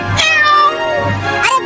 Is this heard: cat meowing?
yes